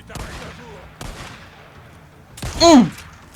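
Bursts of gunfire and explosions come from a shooting video game: several sharp shots, then a louder blast with a falling whistle, heard close alongside faint background chatter.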